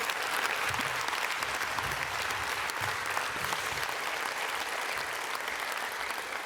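Sustained audience applause at a union congress session, a dense, steady wash of clapping from a large hall crowd that holds evenly throughout with no speech over it.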